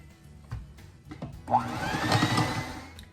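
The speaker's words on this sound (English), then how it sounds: "I will continue to mix this on high for the next 8 to 10 minutes until I have a nice thick foam" After a few clicks and knocks, an electric mixer whirs up to high speed, beating eggs and sugar for a vanilla sponge cake with a loud, steady whine close by.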